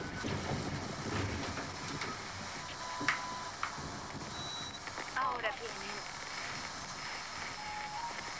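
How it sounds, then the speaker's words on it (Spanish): Steady broadband rushing of storm wind fills the scene, with muffled voices and faint clatter underneath. "¿Y por qué hay tanto ruido? Es la tormenta."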